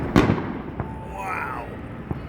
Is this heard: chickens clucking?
no